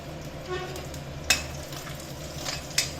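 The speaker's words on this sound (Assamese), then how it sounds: "মই ইয়াতে তেলতে এতিয়া থকা তেলখিনি নহৰু দি দিছোঁ, তাতে কেঁচা জলকীয়া দুটাও দি দিছোঁ" Garlic, green chillies and bay leaf sizzle in hot oil left from frying rohu fish, a steady crackling fry with a couple of sharp spatula or pan clicks, close and moderate in level.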